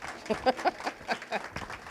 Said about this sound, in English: Yes, please, applause.